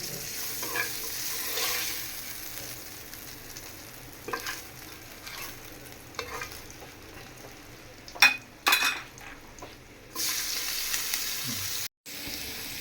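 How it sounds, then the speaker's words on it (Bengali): Spices fry in oil left over from frying fish. A steady sizzle runs throughout, broken by scraping stirs and occasional utensil clinks against the pan, close and fairly loud. "মাছ ভাজার পরে যে অবশিষ্ট তেল ছিল ওই তেলের মধ্যে আমি মশলা কষাই নিচ্ছি"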